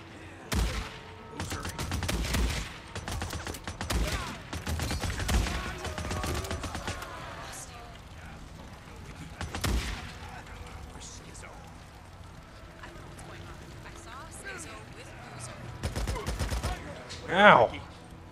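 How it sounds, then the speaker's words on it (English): Bursts of many rapid gunshots ring out in the Days Gone video game, heavy volleys early then scattered shots and another burst near the end, with a voice briefly crying out. "That was a lot of shots out of nowhere."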